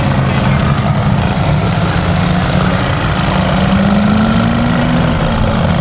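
A Solex moped engine drones steadily on a race circuit at a Showlex event, a buzzing mid-pitched motor held close and loud, its pitch rising slightly partway through, with no talking.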